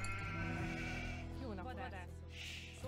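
Sheep bleat in the Age of Empires 2 Definitive Edition strategy game, a few wavering calls mixed with game music, while someone talks over them.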